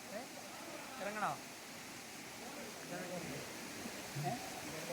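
A hidden waterfall in Kerala gives a steady, soft rush of falling water in the background, running beneath people talking throughout.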